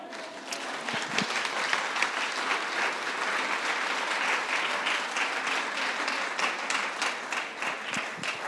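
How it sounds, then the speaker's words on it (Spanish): A church congregation applauds to God during a sermon, broad sustained clapping filling the room for about eight seconds with a faint crowd murmur underneath. "Dale un aplauso a Dios."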